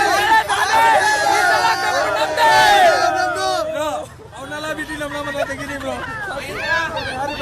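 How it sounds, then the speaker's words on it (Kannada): RCB cricket fans crowd the roadside as the champions' team bus passes, a loud, dense roar of cheering and chanting that swells, briefly dips, then carries on as continuous crowd babble. "ಎಸ್, RCB ಅಭಿಮಾನಿಗಳ ಹರ್ಷೋದ್ಗಾರ."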